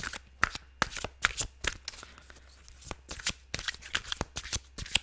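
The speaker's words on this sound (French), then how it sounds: "je vais tirer quelques cartes." Playing cards are shuffled up close in a quiet room, a rapid run of crisp riffling flicks and soft slaps that comes in short bursts.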